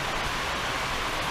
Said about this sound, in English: It's raining, there's nothing I can do about it.